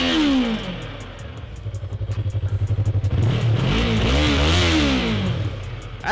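A 2017 Yamaha R3 Raven Edition sport bike engine, still cold, is revved hard by throttle blips, rising and falling in pitch in two sharp climbs, loud and close.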